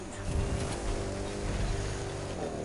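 A truck engine roars in the racing video game The Crew 2 during off-road hill-climb play, a steady, loud droning rumble with no talk.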